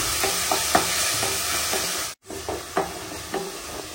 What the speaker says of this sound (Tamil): இஞ்சி பூண்டு பேஸ்ட் நல்லா வதக்கிடுவேன்